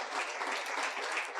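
Church congregation giving a sustained burst of clapping, dense and even throughout, fairly close with no pause.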